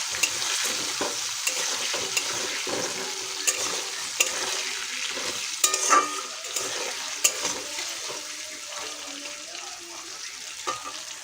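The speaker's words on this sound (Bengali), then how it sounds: "এখন নাড়াচাড়া করব" Chicken being stirred in a hot pan with salt and turmeric, a steady scraping and sizzling with clinks of the spoon against the metal throughout, close and fairly loud with no talking.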